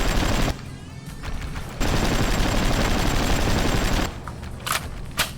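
Sustained automatic gunfire from a KBVT heavy machine gun in Hard Truck Apocalypse, aimed at Ural trucks, forming a dense, loud, continuous burst that breaks briefly and resumes, followed by scattered impacts.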